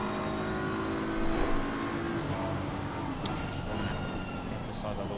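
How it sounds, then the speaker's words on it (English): BMW and Bentley GT race cars contest an endurance race at Imola, engines droning at a moderate distance with a brief swell as a car passes, beneath a commentator's continuous voice. "Potter in the BMW chasing down the Bentley of Bad"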